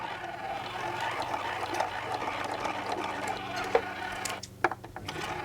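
A sewing machine stitches straight across the end of a fabric pouch, a steady close mechanical whir with faint rattles, then pauses with a couple of sharp clicks near the end.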